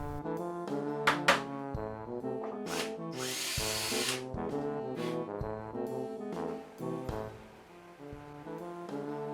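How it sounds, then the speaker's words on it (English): A power drill whirs in short repeated bursts, drilling small pilot holes for screw-in hooks. Its motor pitch rises and drops as it starts and stops, with one harsher grinding stretch partway through. "drilling a small hole before screwing in each hook"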